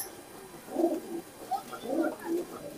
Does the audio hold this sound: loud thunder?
no